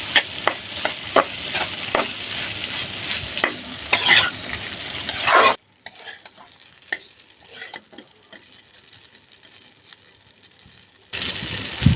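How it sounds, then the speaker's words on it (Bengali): Boiled pasta being stirred in a frying pan, with loud scraping and clattering strokes and a sizzle for about five seconds, then a quieter stretch of light sizzling before the vigorous stirring returns at the end. "এখন আমি দিয়ে দিব সেদ্ধ করে রাখা পাস্তাগুলো। ভালো করে মিক্স করে নিব।"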